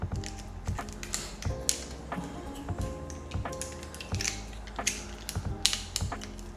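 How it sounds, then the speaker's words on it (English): Small mechanical latch on the side of a DJI Pocket 3 accessory case being worked open, a run of close, crisp clicks and ratcheting snaps in an irregular rhythm. "right here on the side, it has a little latch that you just open up"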